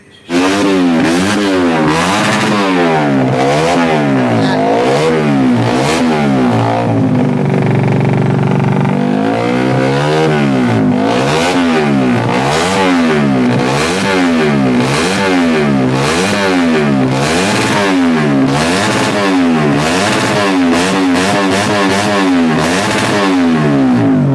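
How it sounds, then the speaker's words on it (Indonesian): A Honda Supra GTR racing motorcycle engine revs hard again and again in repeated rising and falling sweeps, loud and close, with a brief lull partway through. "Motor balapnya ini Supra GTR Honda"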